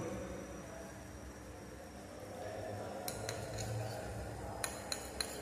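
An aqueous phase is stirred drop by drop into a heated oily phase for vanishing cream, giving faint, quiet background hiss and then a few light clinks of a utensil against glassware near the end.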